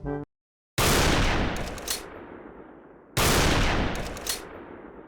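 Two booming Tac-50 sniper rifle shots in a video game, each a loud sharp crack followed by a long rolling echo that decays over a couple of seconds.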